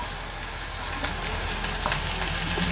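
Chopped onion and tomato fry in hot oil, giving a loud, continuous close sizzle that holds steady throughout without any talking.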